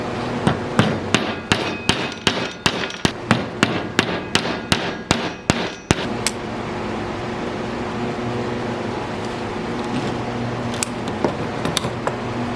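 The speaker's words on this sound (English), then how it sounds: "I'm just going to pull out the hammer and tap them in" Sharp hammer taps ring out about a dozen times in a steady rhythm while full-motion steering standoffs are knocked into a drift go-kart, each strike close and loud, then a quieter mechanical hum carries on with a few faint clinks.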